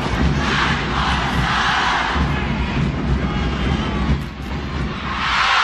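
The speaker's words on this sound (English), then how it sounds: "UST crowd trying to pump up their team to come back here. But the DLSU crowd also countering." A packed college volleyball arena with rival UST and DLSU crowds, dense loud cheering and chanting swelling in waves, steady and close throughout.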